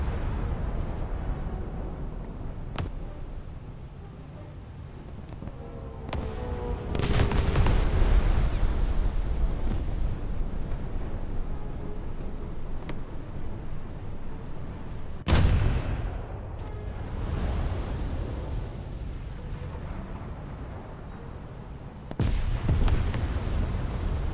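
A British cruiser fires its guns in a naval video game, heavy booming salvos rolling out at intervals over a constant low rumble of engine and sea noise.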